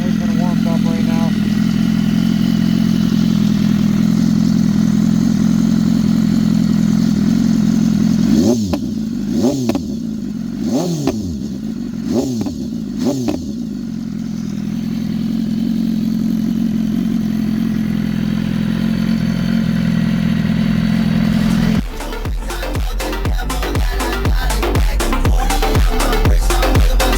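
A BMW S1000RR sportbike with an SC Project titanium exhaust idles loudly, gets blipped in a series of sharp revs, settles back to idle, then breaks into a rapid crackling burble near the end.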